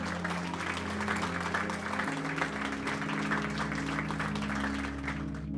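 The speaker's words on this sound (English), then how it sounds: "So if you can have a round of applause for Reese." Applause from a small crowd at an in-person forex trading meetup, steady and moderately faint, with a low hum running underneath throughout.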